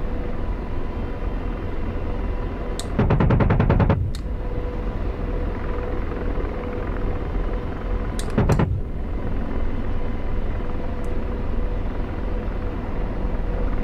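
Two short bursts of AH-64D Apache cannon fire in the DCS combat game, each a rapid stream of closely spaced shots lasting about a second, separated by a pause, over a steady low helicopter rumble with no talk.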